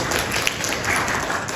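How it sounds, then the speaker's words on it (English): Dense, steady audience applause fills a convention session room, a continuous wash of many hands clapping at even loudness with no voices over it. "let's thank LaShawn and give her a round of"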